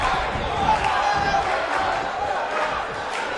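A wrestling event crowd roars and murmurs continuously in a large arena, a dense wash of cheering and shouting voices that holds steady throughout.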